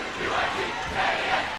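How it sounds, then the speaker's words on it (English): Noisy Jesuit crowd cheering at a capacity high school basketball game against Jefferson, a steady dense roar of voices swelling slightly across a short burst. "Noisy Jesuit crowd up there now."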